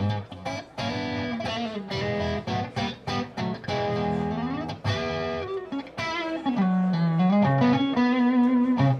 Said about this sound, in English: Now on the lead channel, and I won't crank it up super loud, but even with all this gain, it still cleans up and does that mild breakup really well.